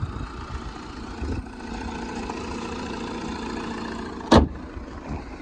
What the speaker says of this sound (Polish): silnik to jest dwulitrowy diesel, to to jest silnik od Insigni 160 konny